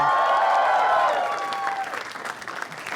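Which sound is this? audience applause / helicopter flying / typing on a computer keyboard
audience applause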